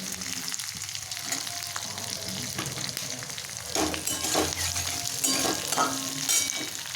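Capsicum is stir-fried in a hot pan for veg manchurian, producing a close, loud sizzle broken by scraping stirring strokes and bursts of crackle, with no voices.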